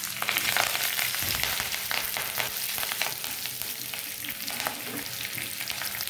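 Whole dried red chillies, green chillies and curry leaves crackle and sizzle in hot oil in a kadai for an Andhra-style raw banana dish, a loud continuous close fry with light stirring and no voices.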